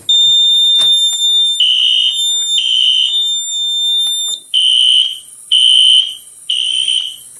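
A Notifier NFS2-640 fire alarm sounds after a pull station is activated, in loud, repeated high-pitched tonal blasts, pulsing on and off about once a second with a shrill steady tone underneath.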